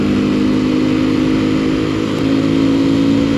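A Mondial Piega 125cc motorcycle accelerating to 40 on a dual carriageway, a loud steady engine drone with rushing wind noise, heard close from the rider's position.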